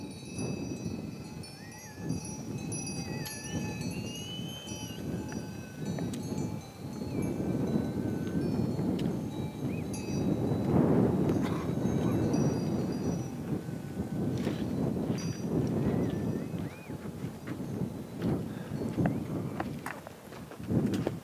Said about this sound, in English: You can hear all the yak bells,